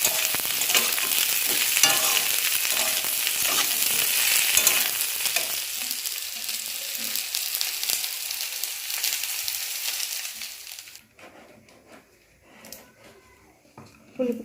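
Cauliflower frying in oil in a home kitchen, with a steady loud sizzle and scraping stirs for most of the stretch, then dropping to quieter clinks and faint sizzling near the end.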